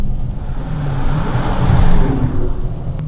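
2015 Dodge Challenger R/T Scat Pack with its V8 engine giving a deep, steady rumble that swells slightly in the middle, loud and close with no talk.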